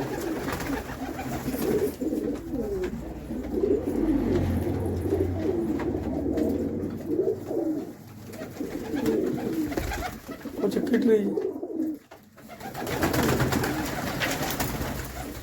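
Several pigeons coo close by in low, rolling, overlapping calls that go on almost without pause, and a voice briefly speaks among them.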